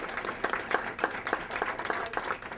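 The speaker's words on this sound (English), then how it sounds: "So let's give our panelists a round of applause" An audience at a panel discussion on young voters gives the panelists a round of applause, with many hands clapping in a moderately loud, uneven patter throughout.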